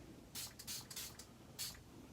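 A spray bottle misting onto a handmade card, several short, breathy hissing puffs in a quick uneven series, close but fairly soft, with a final puff after a short pause.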